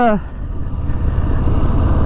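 A 2024 Harley-Davidson Low Rider ST engine lugs low and rumbling while riding in too high a gear, a loud, steady throb after a brief rising burst at the start.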